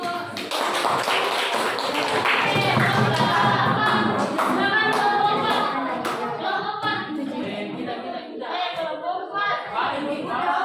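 Students in a middle school classroom clap their hands in a quick rhythmic pattern, close and lively, mixed with children's voices and chatter throughout.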